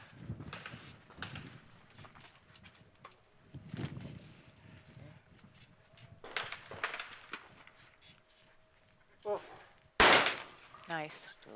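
Shotgun blasts at a men's trap shooting final at an ISSF World Cup in Nicosia, mostly faint and distant, with one sharp loud report near the end, under a commentator's quiet talk.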